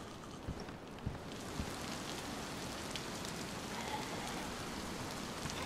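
Heavy rain pours down steadily in the DayZ game world, a dense, even wash of drops with occasional louder splats, continuous and fairly close throughout.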